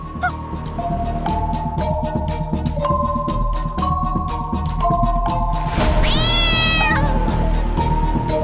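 A cat meowing close by, a drawn-out cry rising over a quiet background of sustained musical tones in a television drama scene.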